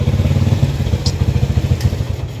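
Classic Honda CB motorcycle engine idling close by with a steady, loud, lumpy low-pitched throb and a few faint clicks over it.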